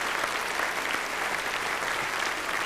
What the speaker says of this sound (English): Don't clap there, don't clap there.